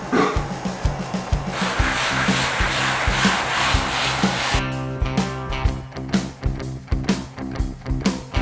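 A relic-style Partscaster guitar body being sanded by hand, with steady rubbing strokes that shift to shorter, choppier passes partway through; close and fairly loud, with no talking.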